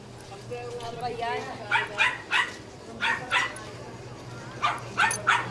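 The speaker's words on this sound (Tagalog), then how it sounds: "Tapang talaga pag maliit na aso, matapang yan." A small dog yaps in short, high bursts, a few at a time and fairly near, at a market in General Trias, Cavite, with faint background noise throughout.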